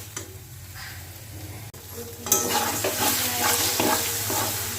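Banana flower (mocha) cooks in a frying pan and is stirred steadily. Soft scraping gives way to louder, continuous sizzling as the pan heats up, with occasional clinks of the utensil.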